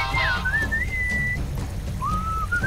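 Melodic whistling from the Sam & Max Beyond Time and Space video game, two gliding sustained phrases with a pause between, heard over a steady background of rain-like noise and a low rumbling bed.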